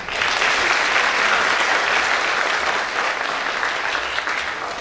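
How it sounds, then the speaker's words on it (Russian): An audience breaks into a sustained ovation, dense steady applause filling the room at full strength for the whole stretch with no voices over it. "Мне кажется, что они достойны овации."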